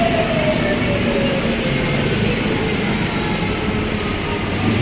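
A steady, loud rumble of an LRT Line 1 light rail train in Manila rolls on without pause, with a faint high whine and squeal riding over the noise.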